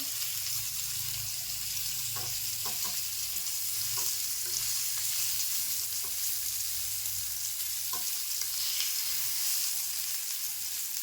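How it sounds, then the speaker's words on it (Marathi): Fish, a ribbonfish fry, cooks in a pan of oil with a continuous soft sizzle, marked by repeated light spatula scrapes and taps as it is turned, without any speech. "ते मासे लगेच भाजले जातात ना"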